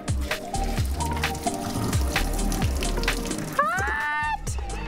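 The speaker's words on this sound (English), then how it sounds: "you put your strainer in your pasta and you pour it out like this." Hot pasta water is poured out through a strainer in a kitchen, giving a steady splashing, sloshing flow with clattering under it, and a voice exclaims near the end.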